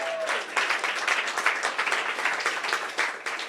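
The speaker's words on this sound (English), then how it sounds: "Clap again." Hackathon audience claps for the finalists at a Bitcoin event, a continuous moderate round of applause with steady, overlapping claps lasting the whole stretch.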